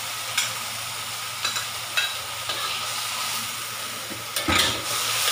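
Vermicelli and pork being stirred in a sizzling pan for a hairy gourd dish, with steady frying hiss under a few soft scraping strokes of the utensil.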